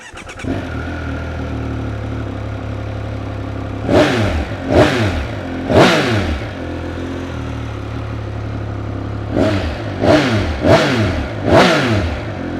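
A Triumph Speed Triple 1200 RS motorcycle with standard exhaust idles and then blips sharply in repeated revs, first a group of three and then a quicker run of four, close and loud.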